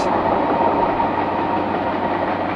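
Loud, steady roar of a CSX M368 freight train rolling past nearby, a continuous rumble with faint rhythmic clatter of wheels on rail.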